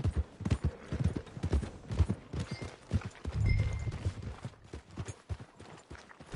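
Horse hooves clip-clop in a steady, rhythmic gait while a rider travels at a trot in Red Dead Redemption 2. The close, distinct hoofbeats come with a brief snort or neigh partway through.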